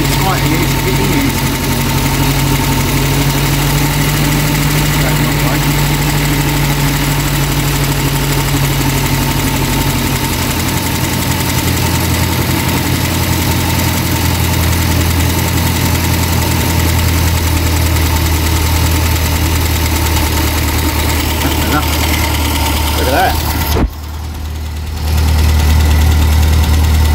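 A Reliant SuperVan engine idles after adjustment, a loud steady mid-pitched running drone with a faint knocking texture throughout, cutting briefly near the end before settling into a deeper hum.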